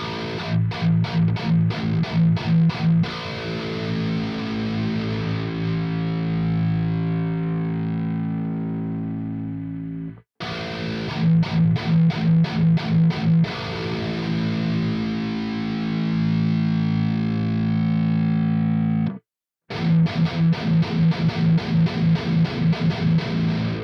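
Distorted electric guitar played with a thick pick, heavy sustained chords with bright picked attacks, loud and close, played in three bursts separated by brief silences, with no talking.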